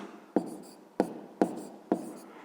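Chalk or pen taps and strokes while a formula is written by hand in a fifth-grade math lesson, four distinct evenly spaced strikes each trailing into a short scratching stroke, close and clear.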